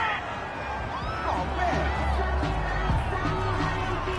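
A home crowd in a football video game cheers and murmurs, a broad swelling roar with scattered whoops and whistles that builds slightly, mixed under faint commentary-like voices.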